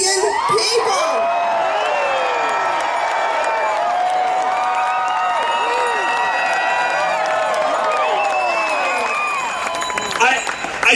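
A huge crowd of about 1.5 million people at the 9/12 protest march in Washington, D.C. cheers and whoops continuously, a dense roar with shouts and whistles rising throughout, loud and close.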